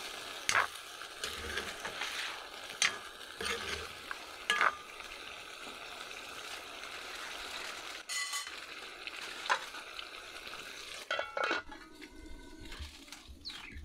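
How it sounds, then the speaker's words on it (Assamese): Meat frying with softened tomatoes in a covered pan, a steady sizzle running throughout with occasional clinks and scrapes of a utensil against the pan, close and moderately loud. "মাংসখিনি ঢাকোন মাৰি ভাজিবৰ কাৰণে ৰাখি দিব লাগিব"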